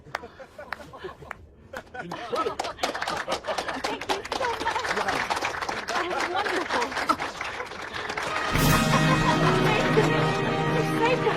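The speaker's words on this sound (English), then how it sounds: "Sing his praises with your applause!" A crowd in an anime celebrates a newly proclaimed wyvern-slaying hero with sustained applause and cheering, steady and dense, swelling louder toward the end, with voices mixed in.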